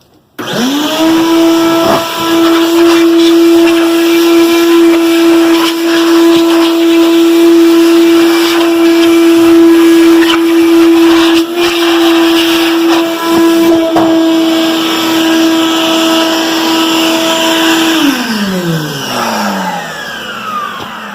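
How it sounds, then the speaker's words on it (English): A vacuum cleaner switches on and runs with a steady, loud whine for about eighteen seconds while cleaning out a 1979 Toyota Corolla Wagon, then winds down as it shuts off. "Here's my vacuum. We can get her cleaned out."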